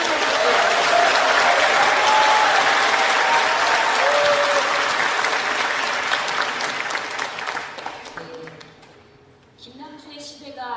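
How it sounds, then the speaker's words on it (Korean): An audience at a gathering with a celebration concert applauds loudly to welcome two guests, a dense sustained crowd clapping that fades over several seconds before a voice is heard near the end. "힘찬 박수로 두 분을 환영해 주시고요."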